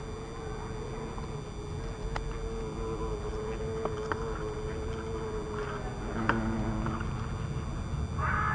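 Hornets buzzing near beehives in an apiary, a steady insect drone with individual wingbeats passing close by, moderately faint, with occasional light taps and no talking.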